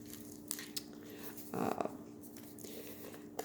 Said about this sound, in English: here's a piece of that parchment paper. You can hear the crinkly